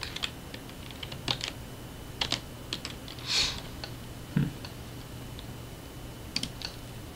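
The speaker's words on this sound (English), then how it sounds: "And we'll give it a click." Computer mouse and keyboard clicks at a desk during digital texture work, sparse soft taps and clicks scattered over quiet room hiss, close and faint, with no talk.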